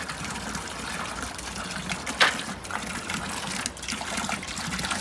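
A running motor pump fills a water trough for livestock outdoors, a steady close gush and trickle of water with one brief knock partway through.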